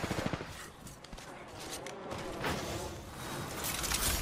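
Gunfire in a video game, a faint crackle of rapid shots mixed with mechanical clatter, steady across the whole stretch under game sounds.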